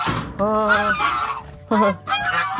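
Loud, nasal honks from a gosling about five days old, a long call followed by a shorter one, very close to the listener.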